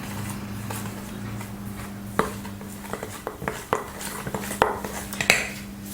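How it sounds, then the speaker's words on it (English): Icing sugar, custard powder and milk powder being mixed in a bowl for salted egg custard buns, with a utensil scraping and clinking against the bowl in irregular close taps over a low steady hum. "Then mix well."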